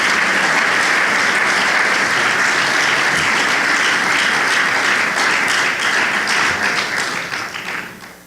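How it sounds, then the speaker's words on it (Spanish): A church congregation breaks into dense, loud applause that fills the room steadily for several seconds, then thins and fades toward the end. "denle un aplauso al Señor."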